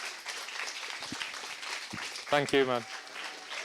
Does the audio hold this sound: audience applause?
yes